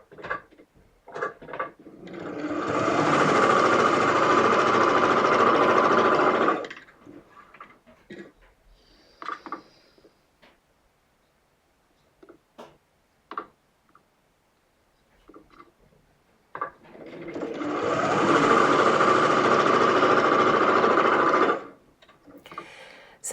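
A sewing machine stitches a skirt waistband toward the side seam in two sustained, even runs of motor whir, with quiet handling clicks and rustles in the pause between them.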